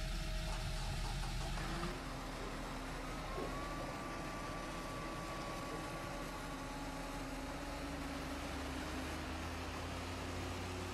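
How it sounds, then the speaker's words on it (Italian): A Fendt 724 tractor idling in Farming Simulator 2013, a steady low engine drone with a constant tonal hum, quiet and unchanging throughout. "Quindi proviamo il nostro nuovo trattore."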